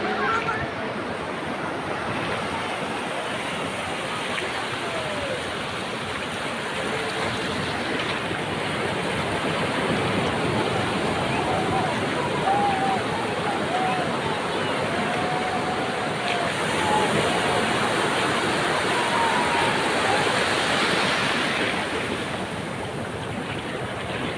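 Sea waves surge steadily onto Laboni Beach in Cox's Bazar at night as the tide comes in, a continuous loud wash of surf with wind over the shore.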